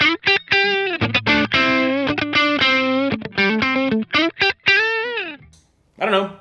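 Distorted Yamaha RS620 electric guitar with split coil pickup plays a run of short, choppy chords and single notes, with a brief pause near the end before it resumes.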